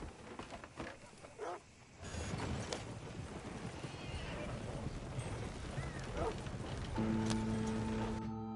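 Horse hooves clip-clopping in Red Dead Redemption 2, a steady galloping rhythm under game ambience, with a brief whinny and a short spoken line early on before the hoofbeats take over.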